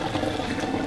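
Hot water from boiled potatoes for gnocchi is poured off through a strainer, making a steady, close rushing splash with no pauses.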